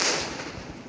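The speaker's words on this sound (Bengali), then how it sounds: "এখন গাড়ি ব্লাস্ট করতে পারি। ব্লাস্ট হচ্ছে" A car blowing up in the mobile game Indian Bike Driving 3D, a single loud burst of explosion noise that fills the short moment and fades slightly.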